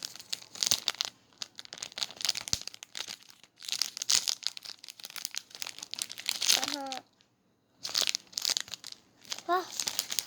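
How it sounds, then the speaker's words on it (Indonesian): Sticker packaging is torn open and crinkled in quick bursts of close crackling and ripping, broken by short pauses, while someone talks over and between the sounds. "Yuk kita buka yang stiker. Ada. Sobek terlalu semangat."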